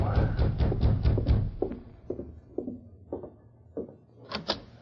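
Door opening in a 1946 Lone Ranger radio drama, a rattling, clattering sequence followed by a few separate knocks and clicks, close and moderately loud, with no talk over it.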